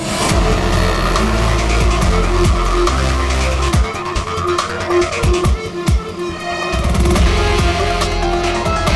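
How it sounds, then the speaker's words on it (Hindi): A car driven erratically skids with squealing tires and engine roar, loud and continuous with bursts of sharp screeching and brief gaps, no talk heard. "ये गाड़ी ऐसे क्यों चला रहा है?"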